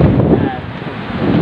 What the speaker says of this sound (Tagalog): Kaso malakas ang hangin.